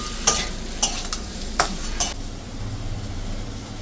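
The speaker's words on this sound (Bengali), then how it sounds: "মানে নিরামিষ করে করা হচ্ছে আলু পটল, পেঁয়াজ রসুন ছাড়া।" A spoon stirs whole spices frying in hot oil for a potato and pointed gourd curry made without onion or garlic: several sharp scraping clinks over a soft, steady sizzle, heard close and with no one talking.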